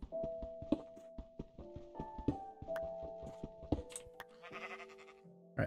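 Sheep in Minecraft bleat in quick, repeated cries layered over blocky game sound effects, ticks and thunks, with no talking.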